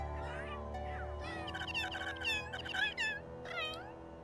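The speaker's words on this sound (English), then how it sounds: "what was all that meowing about?" Repeated cat meows from a Sims 3 cat with aggressive, hyper and hunter traits, a series of rising and falling cries that grow louder toward the middle, heard over a low steady game background with some faint talk.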